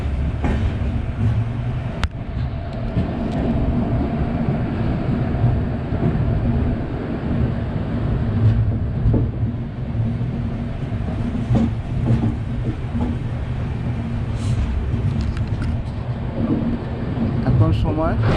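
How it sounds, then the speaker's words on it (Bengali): A passenger train pulls into Khurda Road station, with a loud steady rumble and rolling wheel noise heard from on board and scattered clanks and clicks over about eighteen seconds, with voices faintly in the background. "ট্রেন ঢুকছে খুর্দা রোড স্টেশনে।"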